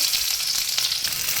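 Whole garam masala spices and onion frying in hot oil, a steady close sizzle filling the short moment with no talk.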